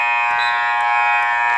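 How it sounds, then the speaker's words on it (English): A loud, sustained game-ending buzzer sounds at a high school basketball game, a steady electronic tone held for over a second. "Justice will launch it at the buzzer."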